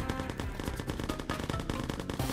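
Rapid, dense gunfire from pirates in the Necesse video game, with continuous machine-gun bursts crackling throughout at a loud, steady level.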